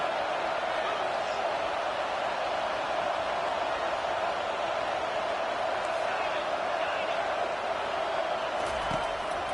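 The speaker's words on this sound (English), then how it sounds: "The crowd now trying to make a difference here in the final possession." Steady, dense stadium crowd roar at a college football game during the final possession, a continuous loud wash of many voices with no breaks, faint higher cheers rising near the end.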